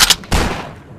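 Gunfire in the World War II shooter Hidden and Dangerous 2, two quick close shots followed by a heavier blast that rolls off into a fading echo, loud and alone without talk.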